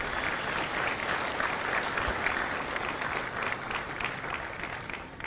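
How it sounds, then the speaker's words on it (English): A large crowd claps steadily for several seconds at a Marine Corps recruit graduation in San Diego, a dense, even patter of applause that tapers slightly toward the end. "a round of applause for our recruiters and our combat instructors"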